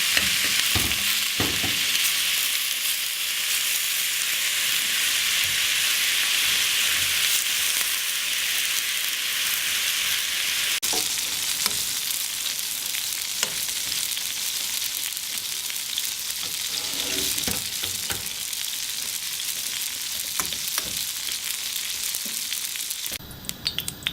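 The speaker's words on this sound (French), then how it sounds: "je vais rajouter les tomates et les féculents" Onions, tomatoes and chickpeas frying in a pan for Lebanese moussaka, a loud, steady hiss of sizzling that runs unbroken throughout, with occasional stirring scrapes and a brief change near the end.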